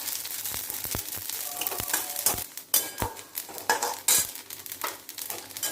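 Vermicelli fried in ghee in a pan is stirred with a utensil: a soft continuous sizzle broken by frequent sharp scrapes and clinks of the spoon against the metal pan, close and without talk.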